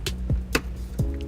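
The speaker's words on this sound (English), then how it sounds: "I'll take our trim tool, just pull apart on them" A trim tool prying plastic carpet fasteners loose inside a 2010 Toyota RAV4 gives four sharp, close pops and clicks spaced unevenly over a quiet cabin background, with no talking.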